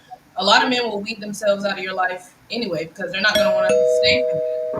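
A two-tone doorbell chime sound effect rings out near the end, playing over ongoing conversation between people on a talk show.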